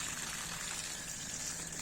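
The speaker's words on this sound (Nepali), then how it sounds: "एन्ड सो द्याट म अब पानी हालिरहेको छु गाइज यहाँ" Water poured by hand onto kidney bean plants on a vegetable farm during winter irrigation, a steady close gushing and splashing wash that runs continuously without pause.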